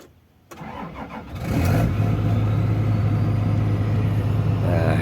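A Komatsu PC200-8 excavator's diesel engine cranks briefly, catches and settles into a steady, loud low idle rumble that fills the rest of the clip, with no voices over it.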